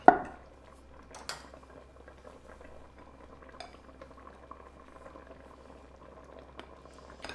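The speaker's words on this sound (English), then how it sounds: "Now we want it to come to a full boil." Thick cherry cobbler filling bubbling in a Ninja Foodi pot, a low steady simmer of soft pops and blips after an opening metallic clank of a utensil, close and fairly quiet, with no talking.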